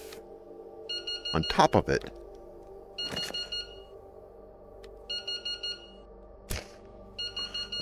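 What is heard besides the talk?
tide meter gadget beeping in video game Into the Radius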